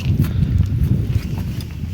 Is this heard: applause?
no